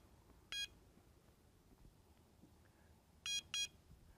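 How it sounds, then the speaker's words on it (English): Electronic carp fishing bite alarms give short, high bleeps, one early and then a quick pair near the end, over quiet outdoor background. "These electronic bite alarms will bleep if a fish picks up the bait and runs away with it."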